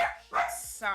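A dog barks a few short, sharp times close by, the yips spread across a brief moment with quiet gaps in between.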